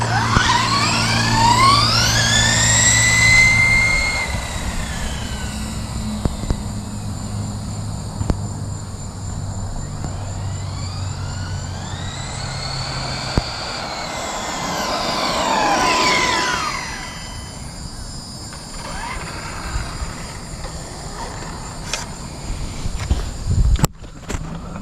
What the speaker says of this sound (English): we're going to do some speed runs, see what kind of speed to expect out of the box.